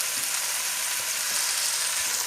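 Potatoes and tomato fry in a pan, a loud, steady crackling sizzle that stays close and continuous with no talking.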